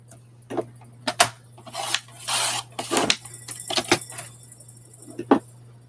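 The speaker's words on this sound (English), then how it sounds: "Let's just trim that up a little bit." Scissors trim the paper edge off a Winter Playground image for a glue book page, a few short snips and rustles near and moderately loud, set over a steady low hum.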